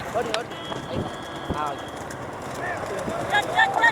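Racing bulls approaching at a rural bullock cart race, irregular hoof and cart clatter over a noisy, wind-buffeted outdoor background while spectators shout and talk throughout.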